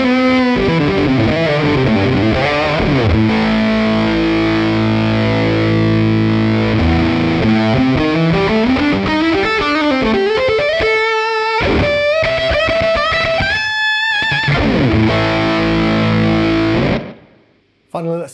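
Electric guitar played through a JHS Legends of Fuzz pedal with the attack knob turned all the way up, giving a loud, saturated, noisy fuzz tone across sustained chords and melodic runs, cutting off into near silence at the end.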